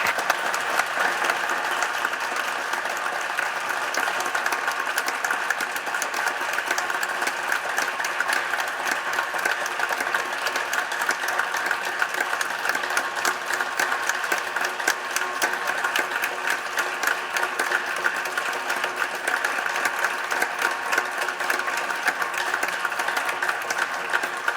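Sustained applause fills the Senate chamber as members and staff clap for McConnell, a dense and steady roar of many hands that runs unbroken and loud for about twenty-five seconds.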